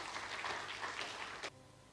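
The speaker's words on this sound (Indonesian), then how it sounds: "Berikan tepuk tangan yang meriah bagi." Church congregation applauding together, a dense wash of many hands clapping that cuts off abruptly, leaving quiet room tone.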